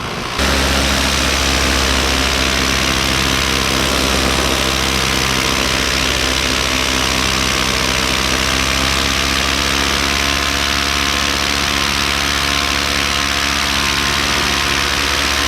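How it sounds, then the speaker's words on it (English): A paramotor engine drones continuously in flight over Leicestershire, a loud, steady, even hum with strong low tones and no break for the full fifteen seconds, with no voices. "Engine sounds lovely."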